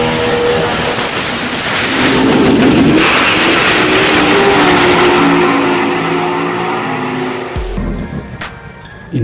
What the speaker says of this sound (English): In this video, we are introducing to you our vertical surface grinder machine